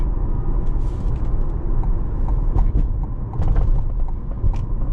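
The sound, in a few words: C8 Corvette driving over a pothole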